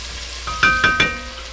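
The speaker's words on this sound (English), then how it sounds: "Let it saute for a minute or so." Sausage sautéing in a pan, stirred with a wooden spoon, gives a soft steady sizzle with three quick scraping strokes in the middle, close and fairly quiet, with no talking.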